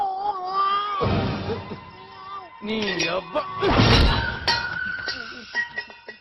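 A cat yowls with wavering, drawn-out cries in a Telugu comedy film scene, mixed with clinks, thumps and a man's exclamation.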